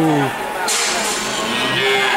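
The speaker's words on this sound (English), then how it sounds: "Hundreds of cattle." Cattle moo in a herd of hundreds, including young calves, with a low drawn-out call close by near the start and another rising moo toward the end over steady background noise.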